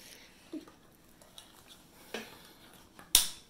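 A can of Vienna sausage is handled with a few soft metallic clicks, then popped open with one sharp, bright crack that rings briefly and dies away.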